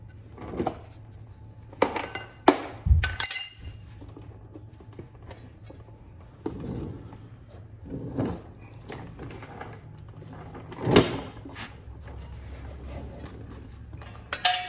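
A ratchet wrench clicks in short intermittent bursts, close and fairly loud, while a heat shield comes off a BMW 335is during an RB turbo install, with metallic clinks and tool handling between the bursts.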